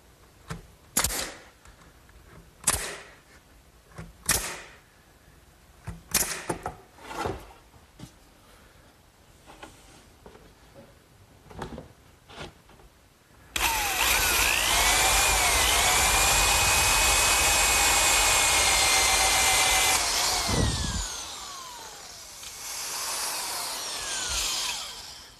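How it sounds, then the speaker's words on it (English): A pneumatic nail gun fastens a wooden kitchen dresser together in a workshop: about eight sharp, separate shots spaced a second or two apart, then a loud, steady mechanical drone runs for several seconds before fading. "here in the shop I like to use my pneumatic tools"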